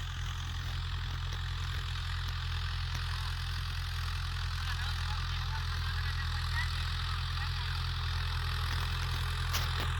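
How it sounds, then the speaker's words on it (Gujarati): A tractor engine runs steadily in a farm field, a loud, constant low drone with no change in pitch and no clear talk. "અને ટ્રેક્ટર આવે છે અત્યારે જુઓ તમે।"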